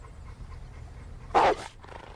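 A single short dog bark or gruff vocalization rises abruptly out of a quiet indoor room tone, lasting about a quarter second, fairly close and moderately loud, with no talk around it.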